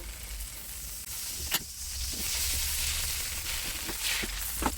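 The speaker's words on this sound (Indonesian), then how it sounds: "Kita mau tumis bumbunya. Bumbunya tambahkan sedikit margarinnya." Spice paste sautéing in a little margarine for Banten-style lime fried chicken, a steady close sizzle and hiss broken by a few sharp stirring scrapes, with no voices.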